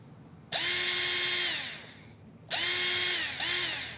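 A small electric motor of a 48V cordless saw whirs up to full speed, winds down, then starts again twice more, each run a high steady whine with no gradual speed control.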